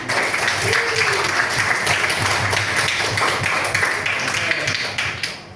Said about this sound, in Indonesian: Coba kasih tepuk tangan dulu untuk kelas ini.